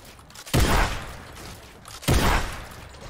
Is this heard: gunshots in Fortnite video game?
yes